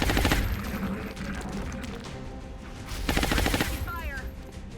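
Sustained bursts of automatic gunfire from a soldier laying down suppressing fire in Long War, rapid rattling volleys near the start and again later, with a voice calling out over the shooting.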